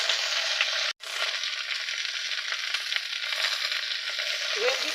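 Okra frying in oil in a pan, a steady, dense sizzle holding nearly constant throughout, with one abrupt momentary dropout early on.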